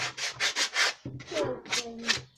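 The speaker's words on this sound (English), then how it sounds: "we give it a light sand all over" Rhythmic strokes of sandpaper rubbing on a wooden planter box by hand, about eight back-and-forth passes, close and clear, with a brief pause midway.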